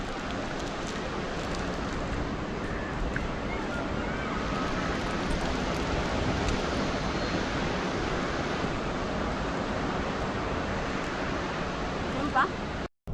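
Sea waves surge steadily along the Busan coast beside an east coast bike path, a loud, broadband wash of surf mixed with wind buffeting the microphone and no pauses.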